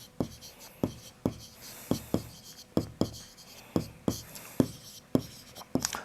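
A Class 6 maths teacher writes on paper by hand during a geometry lesson on angles, making a steady series of sharp pen or chalk strokes, about a dozen crisp scratches close up with brief pauses between them.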